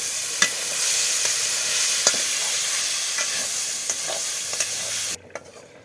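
Boiled lentils being stir-fried with ground spice paste, turmeric, salt and chili in a village kitchen pan, a steady sizzle with scraping spoon strokes for about five seconds before cutting off.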